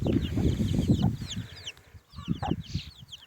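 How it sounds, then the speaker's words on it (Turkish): Gurk chickens cluck and murmur close by in a short busy burst, with a few higher chick chirps over the top and a brief lull midway. "Şurada tavuklarımız."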